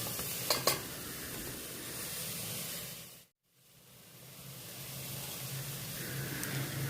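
Breastbone pieces sizzle in a pan of soup as they are stirred together, a steady close frying hiss with a couple of clicks early on and a brief dropout midway, no voices.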